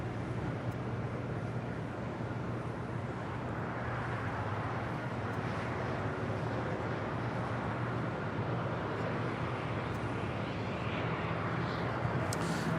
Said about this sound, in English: Emirates A380 now here on the south side